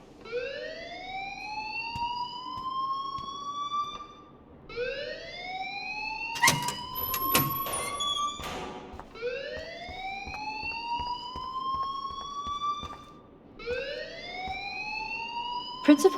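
A school fire alarm in the video game Life is Strange blares in repeated rising whoops, loud and steady, with a burst of clattering noise and a voice partway through.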